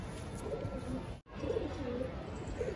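A Saharanpuri pigeon of the Topidar and Nafte breeds coos softly and close by. Low, rounded coos repeat, with a brief silent break partway through.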